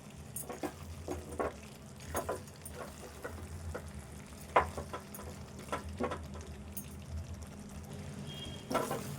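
Goat tripe (boti) curry cooking with spices and a little coconut in a pan: a soft, steady sizzle of frying under scattered clinks and scrapes of stirring, fairly quiet and close, with no speech.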